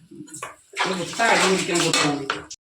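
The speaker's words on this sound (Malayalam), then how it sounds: "നമ്മൾ അത് നന്നായിട്ട് ഇളക്കി കൊടുക്കാം നന്നായിട്ട് ഇളക്കണം അടി പിടിക്കാതെ നോക്കണം" A spoon scrapes and clanks against a pot while biryani masala of onion, tomato and ginger-garlic paste is stirred, a loud close clatter with a brief voice at the start.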